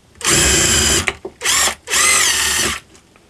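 Power drill boring holes in stacked laminate sheets: three bursts of steady high-pitched whine, about one second, a quarter second and one second long, loud and close with brief pauses and a small clack between.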